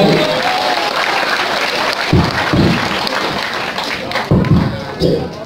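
Loud, sustained crowd applause filling a large space, with occasional deeper thumps and a few voices rising through the clapping.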